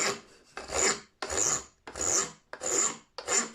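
Harsh rasping of a file taking down the saddle of a 1994 Gibson Gospel acoustic guitar, five long strokes in a steady rhythm, close and loud with short pauses between.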